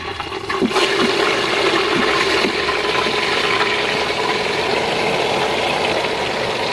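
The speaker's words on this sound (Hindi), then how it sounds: "गोश्त को हमें मीडियम टू हाई फ्लेम पर भून लेना है 7 से 8 मिनट के लिए" Marinated buffalo meat frying in a pan on a medium-high flame, a loud, continuous sizzle with a few sharp crackles near the start, close and steady with no talking.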